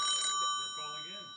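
A telephone rings briefly on a radio show's call-in line, a bright electronic tone that fades out as studio chatter continues underneath.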